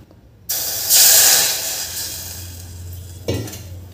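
Water poured into a pressure cooker pot while making beetroot and carrot soup: a bright splashing gush starts abruptly, swells loud, then tapers to a softer trickle before a brief clink near the end.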